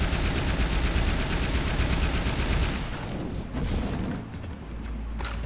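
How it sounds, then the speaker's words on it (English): Plasma launcher fire in the video game Toxikk, a dense, loud rapid barrage of bursts that rolls on for a few seconds, then thins into scattered sharper blasts and softer rumbling. "Oh, this is like the plasma launcher."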